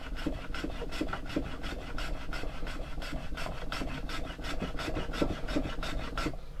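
A rasp shapes the wooden handle of an arming sword fitted with metal collars, producing steady, evenly spaced scraping strokes, close and moderately loud, with no voices.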